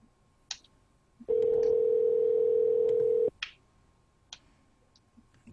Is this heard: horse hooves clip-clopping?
no